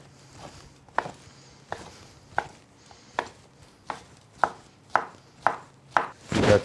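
A knife chops a large piece of ham into small cubes on a board, about a dozen crisp, evenly spaced cuts growing slightly louder and quicker toward the end, with no talking.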